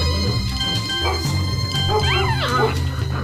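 Labrador dogs barking, yipping and whimpering in a rapid run of short, close calls over a steady low background hum, with high whining tones rising toward the end.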